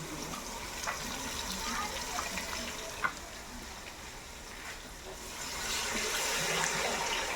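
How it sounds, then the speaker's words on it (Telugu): Fish tamarind broth pours into a pan for fish curry, a steady splashing liquid rush that holds throughout and swells slightly toward the end. "ముందుగా కలుపు చేసుకున్న చేప పులుసుని ఇందులో పోస్తున్నాం"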